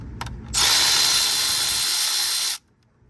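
A cordless power tool runs in one steady whir for about two seconds while removing bolts during a water pump replacement on a 2008 Toyota Highlander 3.5 V6. A couple of short clicks come just before it, and no one speaks.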